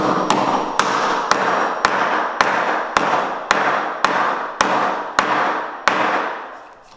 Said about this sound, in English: now I'm just hammering in the T-nuts